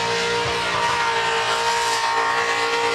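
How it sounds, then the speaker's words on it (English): Race car engine revving at high RPM on a dyno at a motorsport event, a loud, sustained, steady high-pitched engine howl. "Just let us listen to the RPM. Ah, let it sing."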